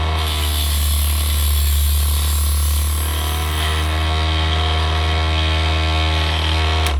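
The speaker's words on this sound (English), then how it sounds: "Flip the cover down, turn the tyre thrower on, wind the handle across." A Kamtec F2 tyre truing machine runs with a loud, steady electric motor hum and constant tonal whine, its pitch shifting slightly midway as the cutter is wound across the tyre, close and unbroken with no talking.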